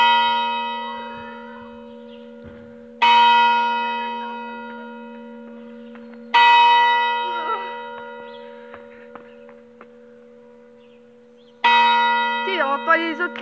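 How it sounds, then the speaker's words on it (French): Church bells of Notre-Dame-de-l'Assomption in Lanquais ring the Angelus, struck in three loud, separate strokes, each with a long ringing decay. A steady hum sits under them and a second bell is faintly audible in the background. "On entend les autres cloches aussi, les deux."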